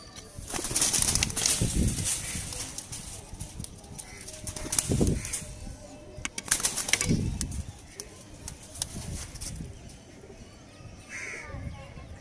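A released pair of pigeons flapping and calling, with bursts of wing beats and short bird calls scattered through, loud and close at moments, alongside someone speaking intermittently in the background.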